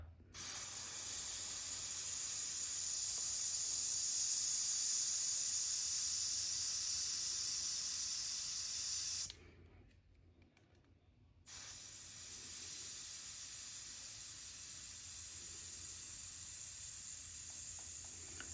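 Sharp, steady hiss of gas rushing out of a SpaceX Starship-shaped torch lighter, slowly fading over several seconds, cutting off briefly, then resuming at a slightly lower level.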